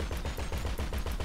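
Rapid, loud sniper gunfire in GTA V Online rings out in a quick rhythmic series of sharp shots, close and continuous without pause.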